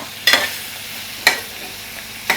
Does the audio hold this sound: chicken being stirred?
yes